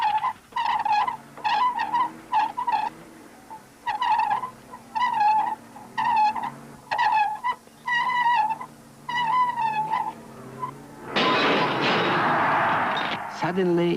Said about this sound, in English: The amount of punishment that an ordinary saloon car can take and still keep moving almost defies belief.